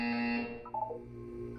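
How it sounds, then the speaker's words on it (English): Electronic buzzer in the video game Portal 2: a sustained harmonic tone that cuts off after half a second, followed by a brief warbling electronic blip and a faint lingering hum. "You will hear a buzzer."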